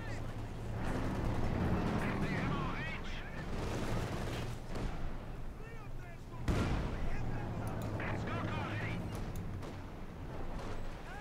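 Field gun fire and battle noise from Company of Heroes 2, dense booms and crackling shots layered with a sharp blast near the middle, under a commentator's talk.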